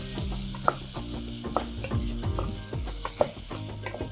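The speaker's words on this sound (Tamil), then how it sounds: "அந்த வாசனை மாற்றுறதுக்கு நம்ம நல்லா வதக்கணும்" Field beans (mochai) sautéing in a pan for a kuzhambu, a low steady sizzle under repeated scraping strokes of a ladle stirring, near and with no voices.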